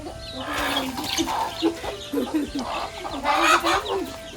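Chickens clucking around backyard coops for hens and ducks at a home, a steady run of near, moderately loud clucks and calls throughout.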